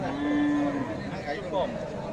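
A cow moos once, long and low, close by, at a cattle market, with faint crowd chatter in the background.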